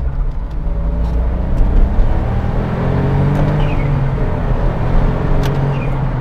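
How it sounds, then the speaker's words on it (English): A Smart Roadster with its rear-mounted engine revs hard through the gears, a loud, close engine note rising and dropping with each shift, continuous and without speech. "just bashing through the gears"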